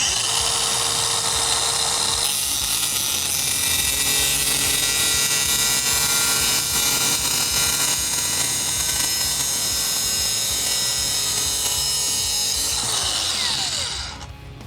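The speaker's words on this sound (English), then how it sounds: "I'm gonna go ahead and cut into this 1/2-inch stainless steel bolt." A DeWalt angle grinder cuts through a clamped 1/2-inch stainless steel bolt, giving a continuous loud, high-pitched whining grind that runs steadily for over ten seconds before winding down at the end.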